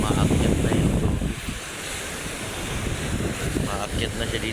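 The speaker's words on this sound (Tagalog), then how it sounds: "Sa lakas ng impact ng tubig, ano? Maakyat na yung tubig." Waves from Manila Bay surge up onto the shore with loud, continuous rushing and crashing water, mixed with heavy wind buffeting on the microphone.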